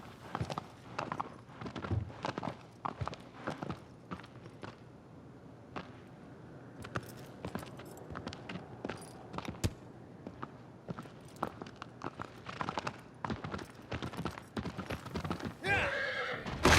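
Argo, the horse in Shadow of the Colossus, clip-clops at a steady gallop and whinnies several times, the hoofbeats running close and loud for the whole stretch with a little talk in places.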